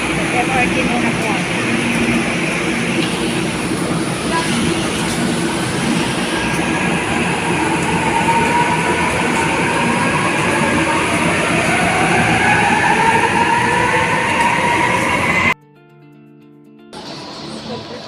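An MRT train in Manila rumbles loudly along the rails with a continuous roar, rising wheel squeals and rattling carriages, cutting out sharply near the end before resuming.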